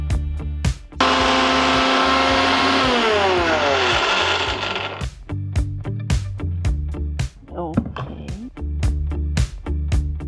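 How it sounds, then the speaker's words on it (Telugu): Kitchen mixer grinder (mixie) grinding oats, a loud whining motor roar lasting about four seconds with a falling pitch sweep, followed by several short on-off pulses of the motor. "అంతలోపు మనం ఓట్స్ని మిక్సీ పట్టేద్దాం"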